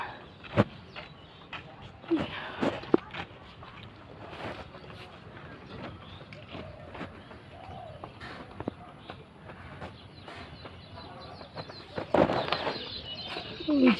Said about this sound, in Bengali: বুলবুলি পাখি